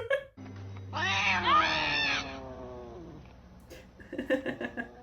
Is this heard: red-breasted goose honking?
no